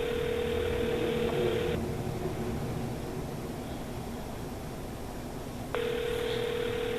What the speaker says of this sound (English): we're actually calling my friend right now